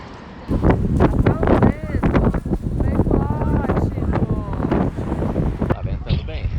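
Gusty wind rumbles against the microphone throughout while people talk over it, outdoors in Copenhagen.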